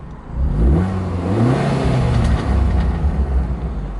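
A 250 BHP Abarth 500 engine revs up through a Powermotive valved exhaust with a deep, throaty note, rising in pitch then holding a loud rumbling roar before easing off, close up.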